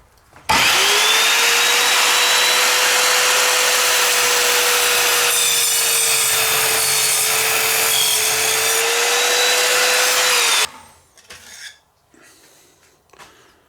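An Evolution F210SMS sliding mitre saw with a multi-purpose blade runs up loud and steady, cutting through wood with nails for about ten seconds alone, then spins down into quieter clattering.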